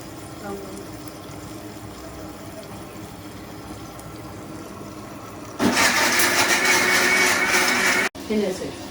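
Electric mixer-grinder whirring loudly through a spice mixture with haldi powder for vetha kuzhambu, starting abruptly after quieter kitchen sounds, running steadily for a few seconds, then cutting out briefly and restarting.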